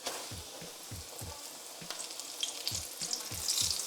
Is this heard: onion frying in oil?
yes